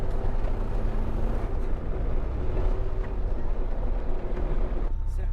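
A 1988 Ford Merkur turbo car held in third gear, its steady engine and road drone loud and continuous with no gear changes, a brief dip near the end.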